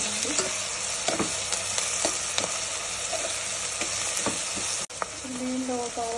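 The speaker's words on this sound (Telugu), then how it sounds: "దీంట్లో ఒక స్పూన్ అల్లం వెల్లుల్లి పేస్ట్ తీసుకోవాలి. ఇది పచ్చివాసన పోయేట్టు వేయించుకోవాలండి." Ginger garlic paste fries with onions in a pan for a channa gongura curry, giving a steady, fairly quiet sizzle broken by occasional scraping stirs and soft crackles.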